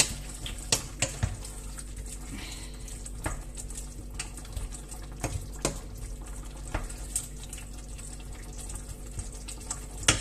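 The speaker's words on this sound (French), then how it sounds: "Et je laisse cuire et épaissir la sauce." Curry minced beef ragout sauce simmers and thickens in a pan, making a low bubbling hiss broken by scattered soft pops and clicks, close by with no talking.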